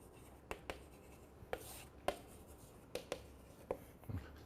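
Numbers are written on a board during an accounting lecture: a string of quick, faint taps and short scratching strokes at an uneven pace, heard alone in a quiet room.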